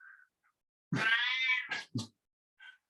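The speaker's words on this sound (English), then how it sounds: "I'm so sorry about the noisy cat in the background." A cat meows loudly nearby, one long drawn-out meow followed by a couple of shorter calls and a faint chirp.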